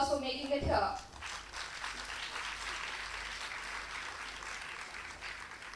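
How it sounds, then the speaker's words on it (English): Audience applause at a school annual day celebration, a brief voice at the start and then sustained even clapping from a large hall crowd, moderately distant and continuous. "So let's have a huge round of applause for making it here."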